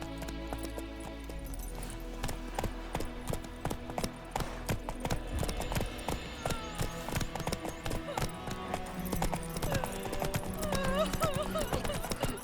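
Horse hooves clip-clop steadily and quickly in The Witcher 3: Wild Hunt, a continuous close rhythmic clatter over game music, with a brief snort or whinny.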